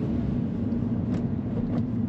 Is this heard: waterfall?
no